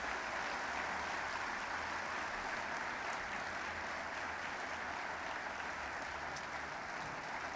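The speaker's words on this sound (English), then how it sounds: "let's give a big round of applause for the Portage County Award recipient for courage, Max May" A crowd at a high school sports awards ceremony applauds a county courage award recipient, producing a continuous, full roar of clapping that stays level and sustained throughout.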